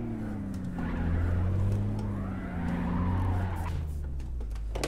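A Saab 9-3 Aero in the City Car Driving video game skids and drifts backward, its engine droning steadily under loud, wavering tire squeal.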